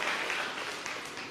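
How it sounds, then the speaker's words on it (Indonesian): Church congregation applauding during a sermon, a dense, steady wash of many hands clapping together, sustained and even throughout with no voices rising above it. "Kasih tepuk tangan yang meriah buat Tuhan."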